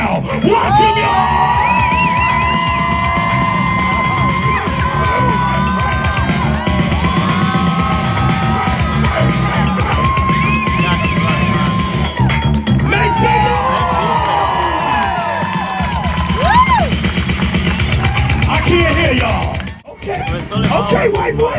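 Outdoor crowd at a Venice Beach street dance show cheering, whooping and yelling loudly and continuously, with sustained shouts and hollers rising and falling and a brief dip near the end.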